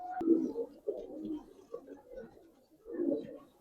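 Giribaz pigeons coo softly in a few low, rolling phrases, close by and fairly quiet, with a brief click near the start and short gaps between bursts.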